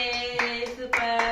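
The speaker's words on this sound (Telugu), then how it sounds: "చప్పట్లు కొట్టండి" A few quick hand claps at home, part of a parent praising a baby, sounding as soft short bursts over a steady tonal background hum, close by and spaced unevenly.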